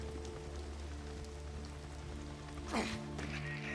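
Steady rain patters on surfaces in the video game Days Gone, a constant close hiss under low ambient hum, with a brief rising whoosh near the end.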